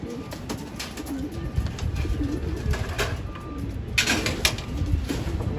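Pigeons coo softly nearby in a loft in low, repeated murmurs, with scattered clicks and light shuffling around them.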